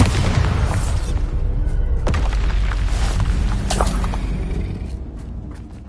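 A Bombarda spell from the video game Hogwarts Legacy goes off with a deep, booming blast, followed by rumbling low-end debris and scattered crackles that slowly fade away.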